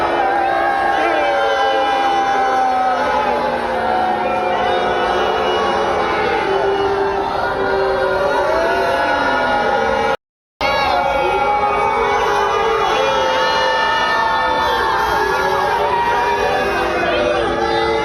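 A dense protest crowd in Washington, DC screams, boos and shouts at full volume, voices overlapping in a loud, continuous roar with a brief cutout partway through.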